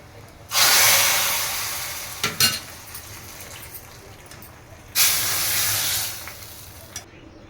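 A hot tempering of oil with cumin, curry leaves and dried red chillies hits cooked dal in two loud hissing bursts, each a sustained steamy sizzle lasting about a second or more, with a brief clatter between them.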